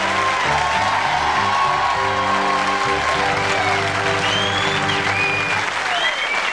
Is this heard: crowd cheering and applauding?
yes